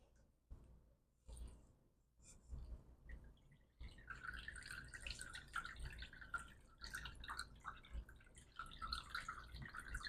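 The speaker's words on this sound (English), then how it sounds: "and then I'm gonna give it another good watering." Water splashes and trickles into a potted plant's soil during watering, quiet scattered drips at first, then a steadier, close pattering flow.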